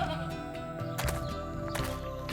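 A goat in an animated Hindi moral story bleats in a wavering, drawn-out call against a background music track, with no voices heard.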